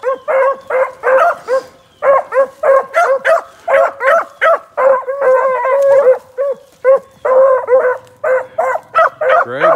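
Peach, a hound dog, barks rapidly and repeatedly up close, a steady run of loud, ringing bays and yips with barely a pause between them.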